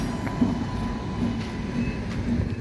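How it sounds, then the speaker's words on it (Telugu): A train passing by, heard as a steady low rumble of rolling wheels with a faint rhythmic clatter that holds at a moderate level throughout. "ట్రైన్ అయితే వెళ్ళిపోయింది ఫ్రెండ్స్."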